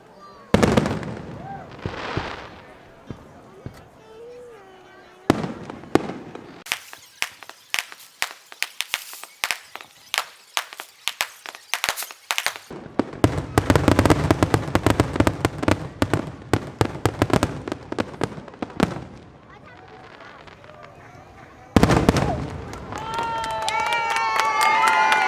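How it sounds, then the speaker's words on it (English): Fireworks burst and crackle during a display in sharp, rapid clusters of pops separated by short quiet gaps. Some volleys are loud and close, and a crowd can be faintly heard between bursts. "just to get a different amount of streaks going through the frame as the fireworks pop off"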